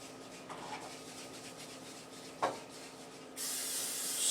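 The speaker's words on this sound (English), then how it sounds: "Spray your rice pan." A brand new can of Pam cooking spray hisses in a sustained, close spray onto a rice pan after a few soft handling knocks.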